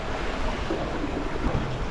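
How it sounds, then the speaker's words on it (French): Rough open-sea waves over two metres high surge and slosh around a solo sailing boat mid-ocean, a steady loud wash of water with wind noise throughout and no voices. "Et là j'ai des vagues, la mer est assez agitée, hein."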